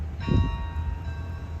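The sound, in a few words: campus noon bells chiming Christmas carols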